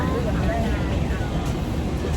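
Inside an airplane cabin on a night flight to Osaka, Japan: a steady, loud broadband roar of engine and air noise with a deep low rumble, continuous throughout.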